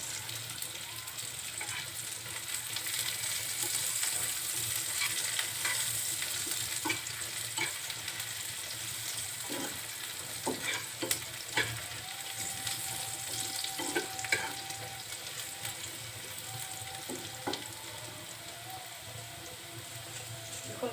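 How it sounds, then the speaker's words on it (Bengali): Onion sizzling in a pan for dal while being stirred, a steady crackling fry with scattered spatula clicks and scrapes throughout, fairly quiet and without speech. "যখন পেঁয়াজটা একটু নাড়াচাড়া করতে করতে নরম হয়ে আসবে"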